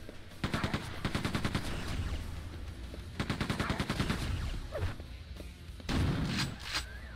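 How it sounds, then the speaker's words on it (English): Rapid automatic gunfire in the video game Quake II: The Reckoning comes in three loud, rattling bursts separated by short pauses, with a few thuds and sharper hits near the end. "Why were you making 2 shooting noises with each shot?"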